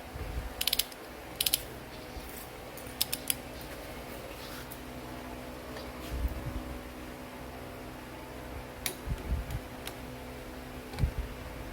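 A torque wrench ratchets 4AGE 20V engine bolts to 22 foot-pounds in an engine rebuild, giving sharp, close clicking bursts spaced irregularly over steady workshop background hum, with no talking.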